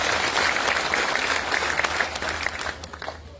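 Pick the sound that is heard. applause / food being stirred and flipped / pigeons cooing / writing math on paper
applause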